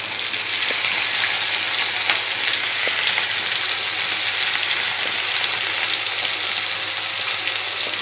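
Vegetables such as onion, cauliflower, pointed gourd, eggplant and potato frying in a pan, giving a loud, dense, steady sizzle with faint crackles throughout, close and constant.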